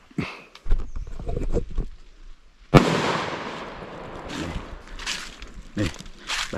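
A small two-baht firecracker set off outdoors on a hill by children bursts with one sharp loud bang partway through, followed by a ringing tail and scattered movement noises, and voices are heard before and after.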